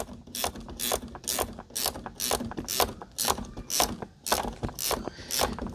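Ratchet clicking steadily as bolts are tightened on the seat of a 1997 Ford Explorer with a broken tilt lever, about a dozen quick close, loud cranking strokes in an even rhythm.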